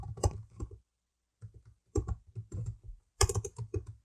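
Close, quiet clacking of computer keyboard keys comes in short bursts of rapid taps separated by pauses, as text is typed into Illustrator.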